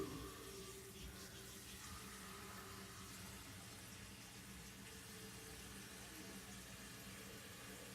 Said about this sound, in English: I might go ahead and add just a little bit more water.